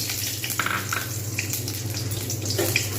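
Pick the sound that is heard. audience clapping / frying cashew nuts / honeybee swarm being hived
frying cashew nuts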